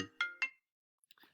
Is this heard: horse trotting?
no